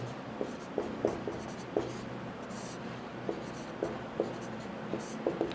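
Chalk or marker tapping and scratching as fractions are written on a board during a maths lesson, soft, scattered strokes at irregular intervals, faint under a noisy room background.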